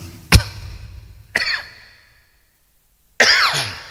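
Three separate harsh coughs from one person, spaced apart with a short silent pause before the last, close and loud with no talk.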